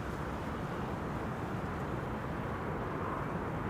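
An EasyJet airliner departs Amsterdam Schiphol for Fuerteventura, heard from behind the centre runway as a faint, steady, distant jet roar with no voices.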